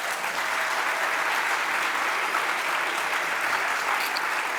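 Steady, loud applause from an audience at a keynote event, a dense continuous wash of clapping lasting several seconds with no speech over it.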